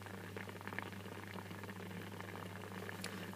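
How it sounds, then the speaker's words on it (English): A 240V electrode heater boils salted distilled water, producing a faint, continuous bubbling hiss over a steady low electrical hum, with no voices. "that's definitely heating the water a lot faster now"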